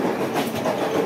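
A passenger train on the Trans-Asia Express route through Turkey and Iran rolls along its rails, heard from inside the carriage as a loud, steady rumble with a continuous rattling clatter and no voices.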